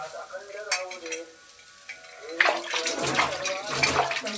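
Chicken curry sizzles and fries in a pan while being stirred, with scraping and bubbling that grow louder and denser halfway through, close up in a home kitchen.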